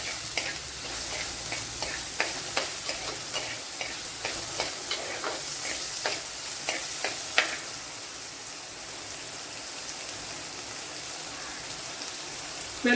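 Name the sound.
shallots frying and being stirred in a pan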